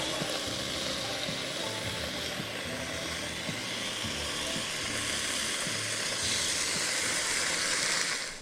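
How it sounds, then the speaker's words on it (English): Bacon and eggs frying in a small pan outdoors, a steady close sizzle and hiss with a low rumbling drone beneath it, no talk. "We've got bacon and eggs on, we've got a coffee brewing"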